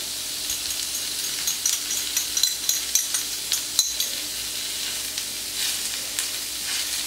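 Crushed potatoes and garlic sizzling on a gently heated plancha: a steady close hiss with scattered spatula scrapes and small pops in the middle.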